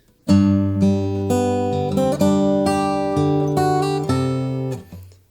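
A plucked guitar plays a short fingerstyle arrangement of a Christmas tune's verse melody with sustained bass notes and chords, each new note attack clear and ringing, solo with no voices.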